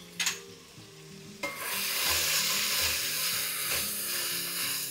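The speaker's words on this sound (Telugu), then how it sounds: "ఈ మసాలాలో కొంచెం వెజిటేబుల్స్ వేగితే టేస్ట్ చాలా బాగుంటుంది" Vegetables hit hot masala in a pan for vegetable pulav, bursting into a loud, steady sizzle and frying hiss after a few light clinks of stirring, with scraping stirs continuing throughout.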